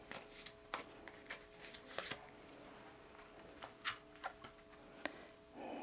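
A tarot card is drawn from the deck, with soft card shuffling and flicking in short scattered bursts, faint and close, in a quiet room with no talk.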